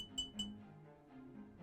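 Two quick, bright taps on glass in close succession, like knuckles knocking on a bottle, faint and near, followed by soft low rustling.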